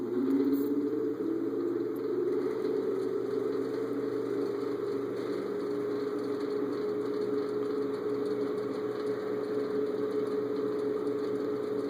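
A 1994 Arvin Heat Stream space heater running with a steady, continuous fan hum and faint mechanical whir at close range, unchanging throughout, with no talking.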